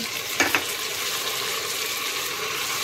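Chopped tomatoes tipped onto browned onions frying in a pan, with two quick thumps of the addition followed by a loud, steady, close sizzle that continues to the end.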